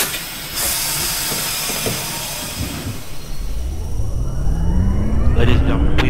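An R42 subway train in the OpenBVE simulator on the J line: a loud hiss of air as the doors close, followed by a rising motor whine as the train starts to move.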